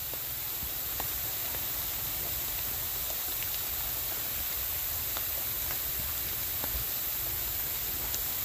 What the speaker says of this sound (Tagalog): Medyo lumalakas yung ulan guys.